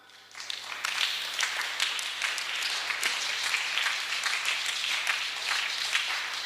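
Applause from a gathered audience, a dense, steady patter of many hands clapping that swells quickly after a quiet start and holds at an even level throughout, fairly close and with no voices on top.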